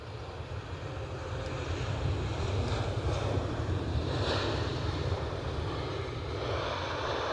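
A British Airways airliner at Edinburgh Airport gives a steady, fairly distant engine roar that holds evenly throughout, blended with broad wind-like rushing.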